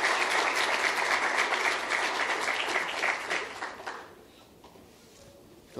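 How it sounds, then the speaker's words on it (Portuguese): An audience at an academic debate applauds to welcome a visiting professor, with dense, even clapping that holds for about four seconds and then dies away, leaving a quiet room. "Palmas."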